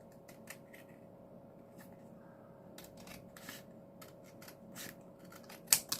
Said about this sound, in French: Maintenant, je vais couper d'abord par le milieu.